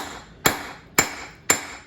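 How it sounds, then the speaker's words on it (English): Three sharp hammer blows ring on hot metal being forged into a dinner triangle, at a steady pace, each with a bright metallic ring that fades quickly, no voices. "we're just going to smash that down."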